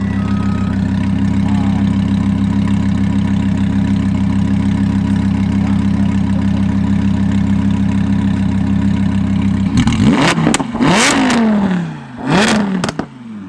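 A truck engine idles with a steady low rumble for about ten seconds, then gets revved hard in several sharp bursts that climb and fall back, loud and close, with no talking.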